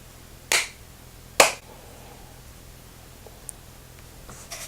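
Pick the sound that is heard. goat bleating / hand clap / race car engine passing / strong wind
hand clap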